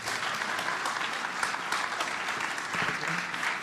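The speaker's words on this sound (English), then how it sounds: "This is the part where you clap." Audience applause at a tech talk, steady dense clapping from a crowd of listeners, moderately loud and continuous with a few murmured voices underneath.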